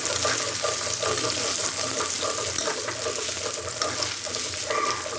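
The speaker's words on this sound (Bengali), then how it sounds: "পেঁয়াজ রসুন ভাজা হয়ে গেছে, আদাও ভাজা হয়ে গেছে। এবার এই টমেটো কুচি দেবো।" Onion, garlic and ginger fry in a pan as chopped tomato goes in for a tomato broiler chicken curry, producing a continuous close sizzle and crackle, alone and fairly even.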